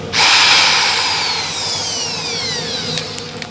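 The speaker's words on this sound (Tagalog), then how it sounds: "Babarinahin natin para makapasok yung tornilyo, yung pinakaulo ng tornilyo." A power drill bores a screw-head recess into an anchor's brake lining, a single loud whining burst that spins up sharply and then slowly winds down over a few seconds.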